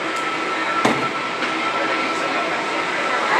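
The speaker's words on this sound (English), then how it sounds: "The locomotives that you see on either side of the ship ensure the ships remain in the center of the" Panama Canal lock locomotives at Miraflores locks running on rails beside a ship, a continuous rumbling rail hum with a few clanks, under a voice describing the scene.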